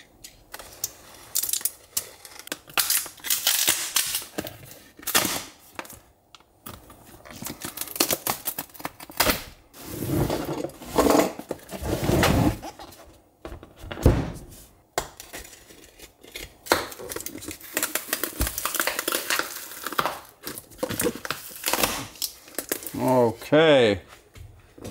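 A 170Ah 12.8V lithium battery pack is cut open with bursts of crisp snipping, clicking and cracking plastic, spread irregularly over a long stretch, with brief pauses and a voice speaking partway through.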